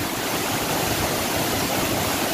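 Pa Wai waterfall pours over tiers of limestone in Khiri Rat, Phop Phra, Tak province, making a steady, dense roar of rushing water that fills the whole clip without pause and with no voices.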